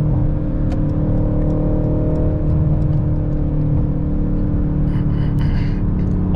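A 500 hp Mercedes-AMG car drives with its window open, its engine holding a deep, steady rumble under road and wind noise, with light ticks and rattles scattered over the top.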